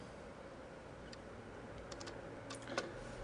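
Typing on a computer keyboard, a short run of faint, sparse key clicks close by, with no voices.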